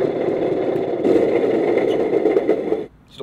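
The small motor of an RC cargo truck idling with a steady, buzzing mechanical drone that mimics diesel vibration, held close for most of the moment before cutting off near the end.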